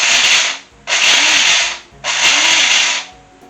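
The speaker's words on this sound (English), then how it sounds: "I'm going to give it a little bit of a go in the spice grinder" Whole spices pulsed in an electric spice grinder: three loud, close bursts of whirring, rattling grinding, each under a second long, separated by short pauses as the motor spins down.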